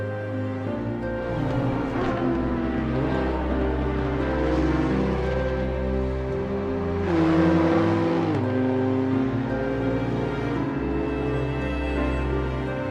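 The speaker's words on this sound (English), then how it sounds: "Drivers, start your engines" Several sim racing cars idle and rev together at Brands Hatch in a Porsche Cup and BMW M2 multiclass field. The engines drone loudly and steadily, with rising and falling revs and one stronger surge midway.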